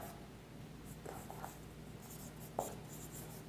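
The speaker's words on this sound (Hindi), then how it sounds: "मैं इसे ऐसे भी लिख सकता हूं" Chalk or a marker scratches faintly across a board as an English grammar teacher writes during a lesson, with soft strokes and a few sharper taps against steady room noise and no clear talk.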